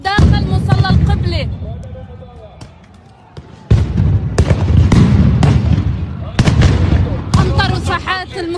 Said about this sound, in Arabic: كمان في داخل المصلى عم يطلقوا قنابل الصوت داخل مصلى القبلة